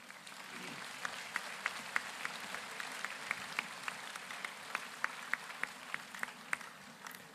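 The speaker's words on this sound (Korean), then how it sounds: "우리 나오실 때 모두 박수로 맞이하겠습니다." Applause from a church congregation welcoming a speaker at a joint Liberation Day worship service: steady, fairly faint clapping that continues throughout, with sharper individual claps standing out.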